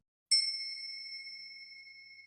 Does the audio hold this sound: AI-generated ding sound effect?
yes